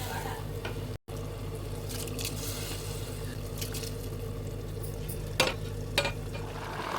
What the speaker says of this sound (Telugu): ఇప్పుడు మనకి వాటర్ మరుగుతున్నాయి.